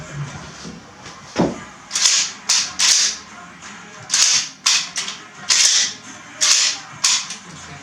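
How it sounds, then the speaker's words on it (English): A cherry red and black Mossberg 500A 12 gauge pump shotgun with a new trigger system has its action worked by hand, giving about eight sharp, close mechanical clacks in a quick, uneven series. "Pull the bolt forward."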